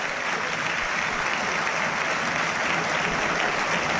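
Stadium crowd at a Copa Sudamericana match between Racing and Athletico Paranaense giving a substitute player a long ovation, a continuous roar of applause and cheering that stays loud and even throughout, heard from within the stands.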